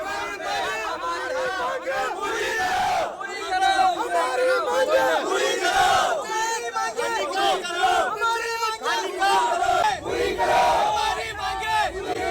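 A large, loud crowd of farmers gathered in a village for fertilizer distribution, a dense continuous roar of many shouting voices and babble throughout.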